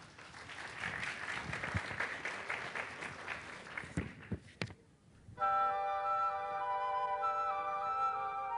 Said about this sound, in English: So everybody, round of applause here.